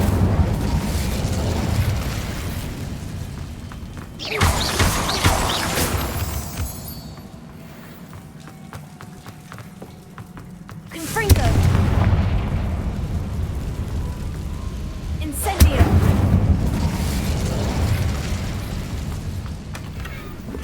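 Incendio fire spell cast in Hogwarts Legacy, several loud whooshing bursts of flame erupting one after another, each a roaring blast that swells and fades over a low rumbling background.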